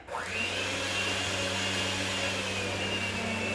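Electric mixer whirring through peanut butter cookie batter with flour, baking soda and salt, spinning up quickly and then holding a loud, steady, close motor hum.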